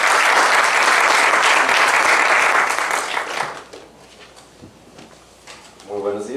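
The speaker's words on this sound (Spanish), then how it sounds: "los solicito un muy fuerte aplauso para ellos" Loud applause from a lecture audience after speakers are introduced at a talk on self-organization in biological networks, dense clapping lasting about three seconds before fading into room quiet and the start of a voice.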